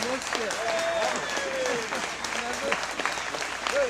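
An audience claps continuously for several seconds, with voices and a few whoops rising over the applause.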